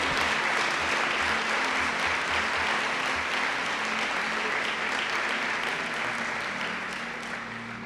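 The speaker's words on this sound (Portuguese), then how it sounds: "Dá um aplauso a Jesus por isso." A church congregation breaks into sustained applause during a sermon, dense, steady clapping that holds at full strength before gently tapering toward the end, with a low hum of background murmur beneath.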